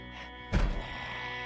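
A single dull thunk as an ammunition magazine is removed in the video game Project Zomboid, a short low knock over a steady background hum.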